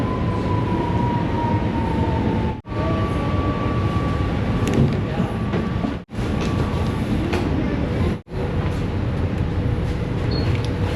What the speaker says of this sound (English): Deze metro gaat richting Gein.